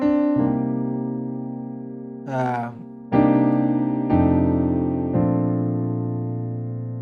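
A 5-1-4 chord progression: sustained chords ring out one after another, with a brief bend of harmonic sweep in between, each new chord struck firmly and left to decay.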